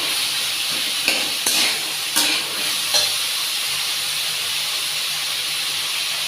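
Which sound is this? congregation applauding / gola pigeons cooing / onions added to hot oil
onions added to hot oil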